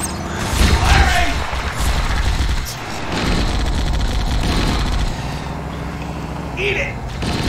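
Rapid gunfire from the video game Halo 1, a dense, loud burst of automatic shots mixed with game explosions and mechanical clatter, continuing steadily under excited game chatter.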